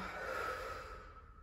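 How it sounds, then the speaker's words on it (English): A slow exhale during a Pilates lunge stretch that opens the hip flexors, a soft, breathy rush of air close to the mic that fades toward the end, with no talking. "breathing in, exhaling"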